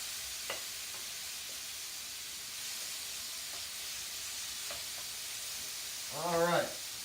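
Butter sizzling in a frying pan for tikka masala, a steady soft hiss running throughout with a few faint clinks, then a brief louder scrape or stir near the end.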